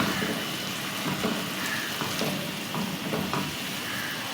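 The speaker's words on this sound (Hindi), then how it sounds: "ऑयस्टर सॉस डाला, जस्ट 1 स्टर देंगे" A pan of oyster sauce and soy sauce sizzles softly as a spatula stirs it, with scraping strokes and a faint watery bubbling, close and fairly quiet, no voices.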